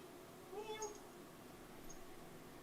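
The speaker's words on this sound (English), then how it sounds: "I have a cat that's trying to come in" A pet cat named Minx gives a short, faint meow from a door while trying to come in, one brief call and then a faint chirp over quiet room hum.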